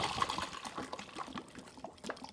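Hot water from a Keurig is poured into a container of frozen aluminum hydroxide, making a soft, steady trickling and splashing that sounds faint and fairly close.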